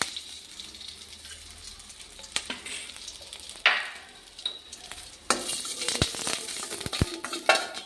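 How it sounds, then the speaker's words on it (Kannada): Green chilies fry in a spoonful of oil for a lentil dal, giving a soft steady sizzle with scattered utensil clicks and scraping taps that grow busier toward the end; no voices. "ಇವಾಗ ಒಂದು ಸ್ಪೂನ್ ಎಣ್ಣೆ ಹಾಕಿ ಇವು ಮೆಣಸಿಕಾಯಿ ಫ್ರೈ ಮಾಡ್ಕೊಂಡು ಸ್ವಲ್ಪ ಹುರ್ಕೊಳ್ಳೋಣ"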